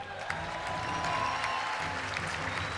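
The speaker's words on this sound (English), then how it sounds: "we should give a big round of applause for Team Revenge" Steady, dense applause from a crowd at a Call of Duty esports championship final, many hands clapping continuously at a moderate distance without pause.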